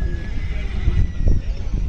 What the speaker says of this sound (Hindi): एक घोड़ी एक बछेरी है।